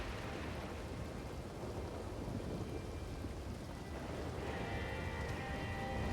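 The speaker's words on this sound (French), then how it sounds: "il s'appelle Petit Tonnerre, il s'en bat les couilles de la pluie." Steady, faint video game rain in Red Dead Online hisses continuously with a low rumbling undertone like distant thunder, no talking.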